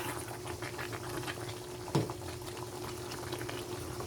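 Pork puchero with pork and beans boils in a pot, a steady low bubbling simmer with one brief knock midway, no talk.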